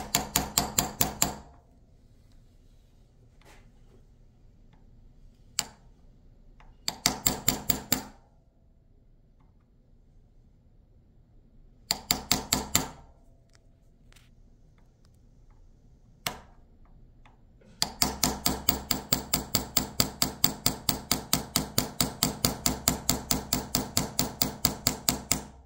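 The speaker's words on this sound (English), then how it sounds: "drive it in place with a hammer and a punch" A hammer and punch drive a dovetail night sight into a Sig P320 pistol slide, with sharp metallic taps in short clusters and single strikes, ending in a long steady run of rhythmic close blows.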